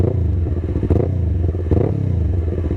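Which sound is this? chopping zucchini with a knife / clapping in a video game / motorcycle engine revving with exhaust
motorcycle engine revving with exhaust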